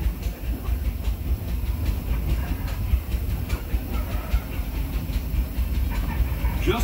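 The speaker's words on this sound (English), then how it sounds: "Train is in motion." The Disneyland Railroad train rolling along the rails, with a steady low rumble and rhythmic clatter of wheels over the track, continuous and close throughout.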